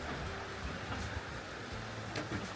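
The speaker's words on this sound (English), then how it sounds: "Wow, it's really raining." Heavy rain pours onto a cabin in a remote North Idaho valley as a dense, continuous hiss with scattered drop impacts, steady throughout and with no voices.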